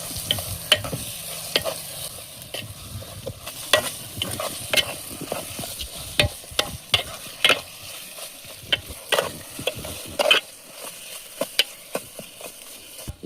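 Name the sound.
frying tamarind curry masala with chili powder and salt, stirred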